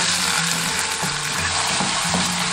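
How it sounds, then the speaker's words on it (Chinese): Scallion, ginger and garlic frying in hot oil in a clay pot make a loud, continuous close sizzle with faint scraping from stirring. "油热过后加入葱姜蒜炒香"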